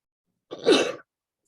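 A single sharp sneeze, close and loud, bursting out of silence and ending just as quickly.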